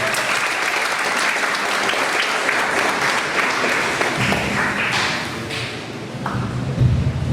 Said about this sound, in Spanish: por favor, brindemos nuevamente un fuerte aplauso.